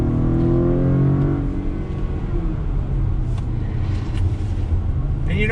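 A 2019 Acura RDX A-Spec with its 2-liter turbocharged engine pulling under acceleration, a loud steady engine drone with rising tonal hum and road rumble from inside the cabin, a voice briefly audible.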